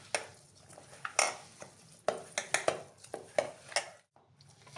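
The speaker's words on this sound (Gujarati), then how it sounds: "હવે બધું પાછું મિક્સ કરી લઈશું આપણે" A spoon mixes a potato filling with salt and coriander in a bowl, a series of irregular knocks and scrapes against the dish, close and moderately loud, with a short pause near the end and no talk.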